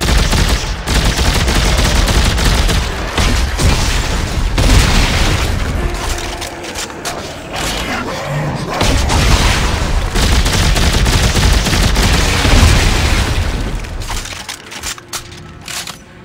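Machine gun and grenade weapons firing in the video game Dead Space 3, a dense, continuous barrage of loud gunfire bursts and booming blasts running almost nonstop for the full duration.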